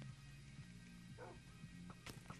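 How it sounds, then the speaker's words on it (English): A dog in the game Minecraft gives a few short, faint barks and yips over a steady hum of game background sound. "Hey, I found a dog."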